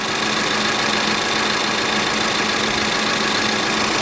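A 2018 Ford Explorer Police Interceptor with the 3.5 EcoBoost engine and AWD idles close up with a constant, even hum and a faint steady whine, alone and unchanging throughout.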